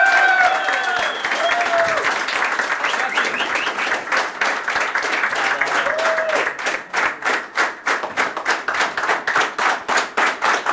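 A studio audience at a comedy quiz show claps for a contestant, a dense wash of applause with whoops early on that settles into rhythmic, unified clapping toward the end.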